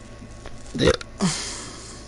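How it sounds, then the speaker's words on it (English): Two short, throaty burps from a man follow each other within about half a second, close to the microphone and standing alone against a quiet background. "I just keep burping."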